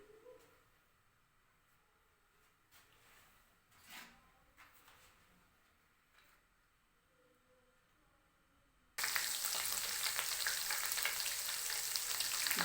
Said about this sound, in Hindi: ये 2 से 3 मिनट हमने लहसुन को फ्राई किया।